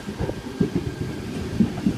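Sydney Trains Hurstville service pulling into a platform, with a steady low rumble and rhythmic wheel clatter close by.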